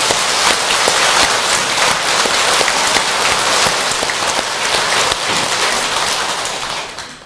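A large crowd at a Buddhist Avatamsaka dharma assembly bursts into loud, dense applause, a sustained roar of clapping that holds steady for several seconds before tapering off at the end.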